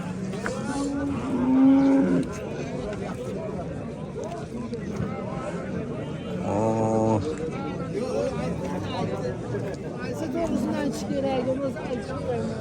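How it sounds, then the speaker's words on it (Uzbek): Cattle moo several times at a livestock market, long low calls rising over a busy crowd of people chatting nearby. "Oh minnakta sigir var. Çoğun sigir var ekan tuğanlar."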